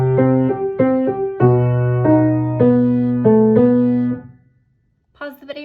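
Solo piano plays the melody of a song with left-hand bass notes under repeated right-hand phrases, close and clear, then a brief pause before a few more notes.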